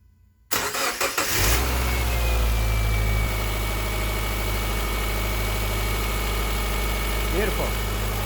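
Subaru Impreza engine with a newly installed alternator cranks briefly after a moment of quiet, catches, and settles into a steady, loud idle close by.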